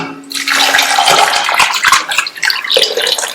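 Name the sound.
water poured into pressure cooker with potatoes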